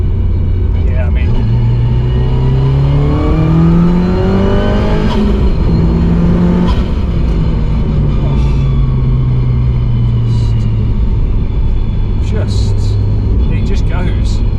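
An Audi TT Quattro Sport tuned to 450 BHP, on cold-weather tyres, pulls hard with a loud, rising engine note through shifts, then slows as it brakes; the engine is close and continuous, and a voice talks over it throughout.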